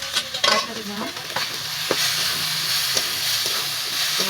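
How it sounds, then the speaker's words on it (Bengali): Spice paste frying loudly in a wok for a fish bharta, a steady close sizzle and hiss broken by several scraping stirs of the spatula, with no talking. "আগে বললাম ওই কড়াইতে মশলাটা কষো"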